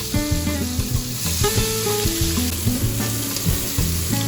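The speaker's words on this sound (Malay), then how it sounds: "Kemudian dengan menggunakan minyak yang sama, kita goreng terung sehingga masak." Eggplant fries in hot oil in a pan, a steady close crackling sizzle with occasional stirring, with no voices.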